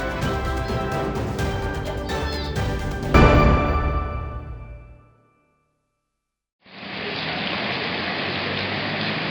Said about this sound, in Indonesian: Hujan dengan intensitas tinggi melanda Pulau Ambon